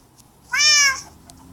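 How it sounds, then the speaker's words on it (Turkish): One clear, fairly loud meow from a nearby cat, short and rising, with quiet surroundings before and after. "Benim kedim dışarı çıkmış."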